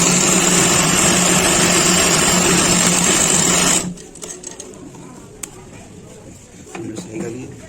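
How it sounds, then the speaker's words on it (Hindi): A sewing machine runs steadily and loudly while double-stitching pant fabric, a fast continuous whir that stops abruptly partway, leaving quieter handling clicks afterward. "इसके बाद डबल सिलाई कर लो।"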